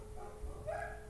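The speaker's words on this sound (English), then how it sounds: "Please excuse the noise from the dogs outside." Dogs bark outdoors in faint, distant bursts, with a few soft yaps carried over a low background.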